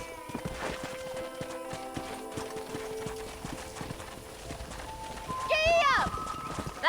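Horse hooves trot in a steady, rapid clip-clop through Red Dead Redemption, close and continuous under voices and a music score, with a brief whinny near the end.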